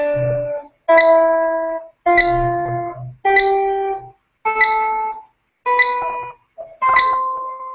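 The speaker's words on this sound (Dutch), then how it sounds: "En speel dan de hele toonladder zowel heen als terug." A guitar plays a scale one note at a time, seven or eight clear plucked tones stepping upward, each ringing briefly before the next, close and alone with no talk.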